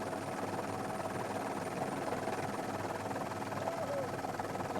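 A helicopter hovers above a sailing race start, giving a dense, continuous rotor and engine roar that stays steady and fairly loud throughout, with commentary talk faintly underneath.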